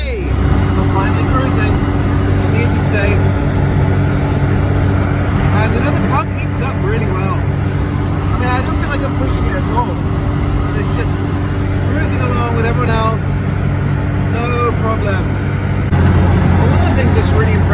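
Citroën 2CV cruising on Interstate 5 between Seattle and Portland over a rough road surface, a steady loud engine and road drone with tire rumble throughout, while people talk over it inside the car.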